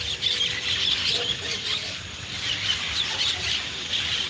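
Parakeets calling outdoors, a steady wash of high chirps, squeals and squawks from several birds at a moderate distance, continuous throughout.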